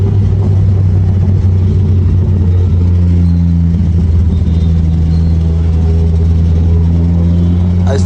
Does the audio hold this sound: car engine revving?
yes